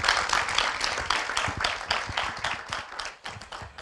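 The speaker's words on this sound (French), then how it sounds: "merci à tous les deux pour vos témoignages, on peut les applaudir" A conference audience claps for two speakers after their talks, a steady wash of many hands clapping at moderate volume, with distinct individual claps standing out and the applause easing slightly toward the end.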